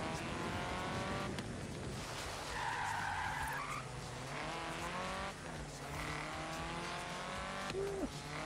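An Atom sports car in Forza Horizon 3 revs and accelerates, its engine note rising and falling between gear changes, with tires squealing and skidding through corners, loud and close throughout.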